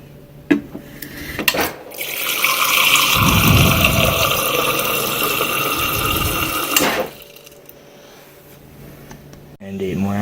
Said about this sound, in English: So our first step is to measure out 8 ounces of water.